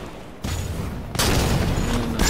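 A Hydra missile launcher fires in Halo 5 with loud whooshing bursts of launch and explosion noise, one rising at the start and a larger blast about a second later, close and dense.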